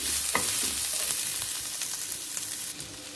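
Chopped ingredients for plum chutney, including minced garlic, sizzle steadily in a pan while a utensil stirs them with scattered scraping knocks, close and alone.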